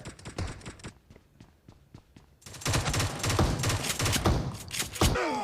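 Gunfire from the mobile game PUBG Mobile rings out in rapid, sharp bursts, pauses briefly, then returns as a dense, louder stretch of continuous shots near the listener.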